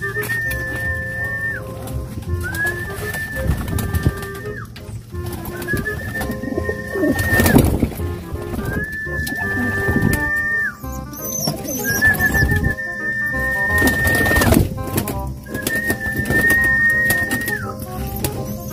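Pigeons coo repeatedly in rhythmic, moderately loud phrases close by, with several birds overlapping and short pauses between calls.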